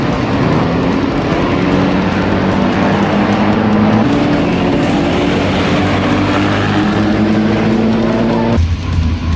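Several race cars roar around a night skid plate race track, a dense, steady engine drone with overlapping revving tones holding loud throughout, ending with a lower rumble.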